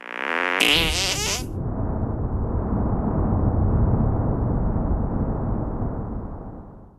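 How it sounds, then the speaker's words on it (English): Cartoonish fart sound effect from the South Park: The Stick of Truth video game, a long, loud, rumbling blast lasting several seconds and fading at the end, preceded by a brief snippet of game music. "Make your fart detonate behind me."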